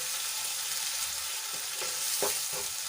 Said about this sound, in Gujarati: તો ડુંગળીને આપણે સરસ રીતે સાંતળી લઈશું।